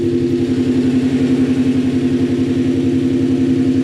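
BMW E39 M5 engine running steadily after a rod bearing replacement, a loud, close, even drone with a fast regular pulse and no voices over it.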